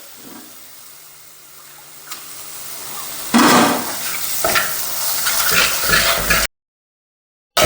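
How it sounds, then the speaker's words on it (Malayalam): Tamarind water is poured into a pan of fried masala with garlic, shallots and tomato, a sudden loud hissing sizzle bursting out and continuing with bubbling and stirring before cutting off. "അതിലേക്ക് ആ പുളിവെള്ളം ഒഴിച്ചു കൊടുക്കുക"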